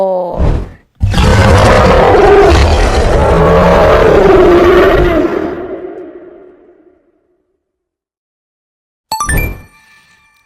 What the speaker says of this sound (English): Lion says roar